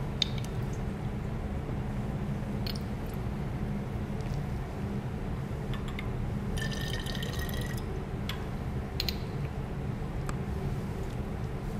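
Water rinsing an Erlenmeyer flask in a chemistry lab during a cyclohexanol dehydration experiment, heard as scattered drips and short liquid splashes with a brief trickle midway, over a steady low background hum.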